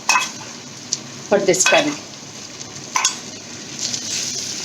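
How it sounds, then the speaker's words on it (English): Tomato puree goes into a sizzling Bengali katla fish curry gravy made with orange juice. A steady hiss carries a few brisk bursts of stirring and spattering, and a voice briefly speaks over it. "Now it's time to add the tomato puree"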